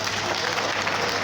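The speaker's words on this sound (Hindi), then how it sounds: "ताली बजाओ" Schoolchildren at a school in Shahjahanpur, Nimrana, Rajasthan clap together in a dense, steady burst of applause lasting about a second, filling the room at close range without pause.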